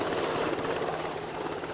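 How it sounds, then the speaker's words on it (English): A National Guard helicopter's steady rotor roar fills the air over hurricane-damaged Galveston, a constant loud broadband drone with no pauses or talking. "the National Guard are out to come in by helicopter"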